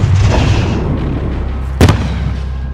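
Single sharp grenade blast in Call of Duty Modern Warfare 2019 near the two-second mark, close and loud over a low rumbling background, with no one speaking.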